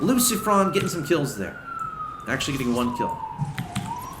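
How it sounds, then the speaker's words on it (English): A police siren wails in the background of a StarCraft game commentary, its rising and falling tone held faintly under close, continuous talk from a commentator. "Sorry about the siren."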